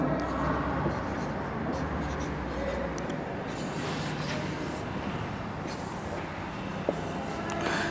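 A teacher's marker or chalk scratches across a board in a maths class, heard as short rubbing strokes close up, partly under a spoken explanation.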